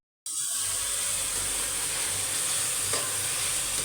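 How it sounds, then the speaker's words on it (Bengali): Spice masala is sautéed in a pan for a home-cooked Bengali dish, a continuous loud, close sizzle and hiss that begins abruptly and holds steady with faint stirring scrapes. "এই যে মশলা কষানো হয়েছে"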